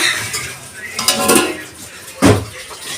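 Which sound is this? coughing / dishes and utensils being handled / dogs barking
dishes and utensils being handled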